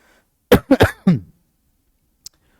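A short burst of four harsh coughs in quick succession, close to the listener, followed by quiet with a tiny click.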